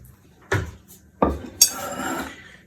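A knife cuts a small slice from an apple coconut pecan cake, with two sharp clinks of metal on a plate followed by a brief scraping rustle, close and otherwise quiet.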